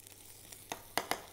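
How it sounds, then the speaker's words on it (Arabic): Garlic hitting hot oil in a pan while cooking a Moroccan chicken tagine with olives, faint sizzling with a few sharp crackling bursts and stirring noises, fairly quiet and close. "نحمس شويه الثوم"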